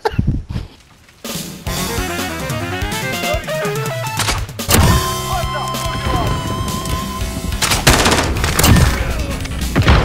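Repeated gunshots and sharp impact cracks from crossbow and Renetti weapons in a video game ring out in bursts over tonal game music, loud and close, with no talking.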